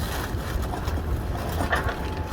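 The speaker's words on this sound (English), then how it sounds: "it's super windy today" Strong wind blows outdoors during the unboxing and setup of a Greenworks 42-inch zero-turn electric mower, a steady low rumble buffeting the microphone throughout with no talking.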